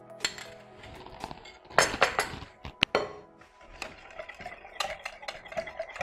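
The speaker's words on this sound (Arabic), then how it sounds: "نخلطو." Crêpe batter with melted butter is beaten in a bowl, giving irregular clinks and scraping taps of a utensil against the bowl, close and fairly loud, with a few sharp knocks in the middle.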